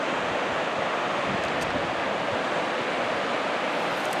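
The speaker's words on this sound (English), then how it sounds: "It's a waterfall." A waterfall along a mountain traverse near Mount Harrison, a steady dense roar of rushing water with no talk.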